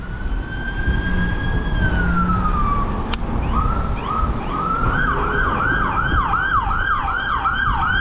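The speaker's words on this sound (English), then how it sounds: "Ambulance or something? Oh, cop car." A police car siren wails steadily, first a long rising-falling tone, then a fast repeating yelp, loud and close over low road rumble during an e-bike ride.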